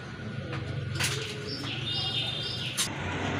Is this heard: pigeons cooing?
yes